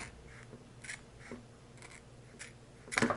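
Scissors snipping at a sausage package, several short crisp cuts spaced apart and then a louder crinkling rip at the end, quiet and close in a still room.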